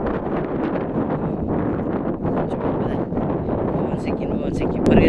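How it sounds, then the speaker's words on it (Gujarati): Steady wind gusting against the microphone on an open hilltop, a continuous broadband roar that swells briefly near the end, with no talking. "થોડોક પવન આવતો છે"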